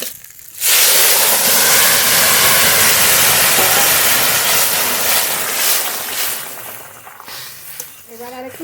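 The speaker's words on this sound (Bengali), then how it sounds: "তেলের পরে এবার তরকারি ঢেলে দেবো" Vegetable curry pours into hot oil with fried puti fish, setting off a loud, sustained sizzle and hiss that fades slightly toward the end.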